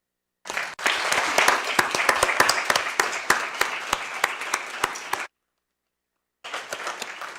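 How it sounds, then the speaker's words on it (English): An audience at a school board meeting gives a round of applause, dense steady clapping lasting about five seconds, stopping abruptly, then a brief second burst after a short silence. "just one last round of applause for those three teachers."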